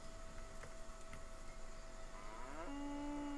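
A low, drawn-out cow moo rises and holds near the end in the video game Kingdom Come: Deliverance, heard over faint background hum and scattered soft knocks.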